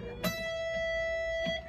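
Electric guitar playing a pentatonic lick that skips strings up to the high E, opening with a bent note; a few picked notes ring out alone over a steady sustained tone.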